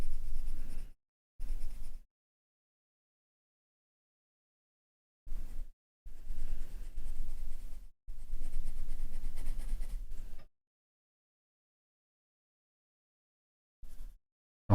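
Colored pencil working black layers onto paper for a portrait drawing, in several bursts of steady scratchy scribbling separated by silent pauses, close and fairly quiet.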